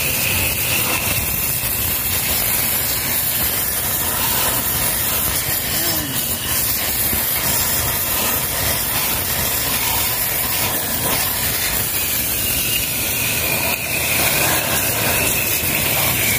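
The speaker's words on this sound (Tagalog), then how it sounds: "Dapat malakas talaga yung power spray, yung pag-spray ninyo." A loud, continuous hissing spray of a pressure washer cleaning a Yamaha Sniper 155 motorcycle engine, steady and close throughout with a faint mechanical hum underneath.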